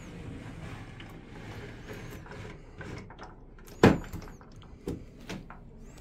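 An old wooden desk's top drawer being pulled open, a sharp scraping clunk near the middle followed by a softer knock and small rattles, close and alone over a quiet room.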